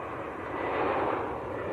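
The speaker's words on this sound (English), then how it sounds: "Lufthansa on short finals." A Lufthansa CityLine Airbus A320neo from Munich on short final approach into Manchester Airport in foggy weather gives a steady, broad engine roar that swells slightly and holds, with no voices.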